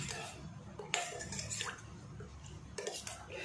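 A spoon stirs jamun sherbet with mint leaves, producing a steady close clinking and liquid swirling with a few louder taps against the container.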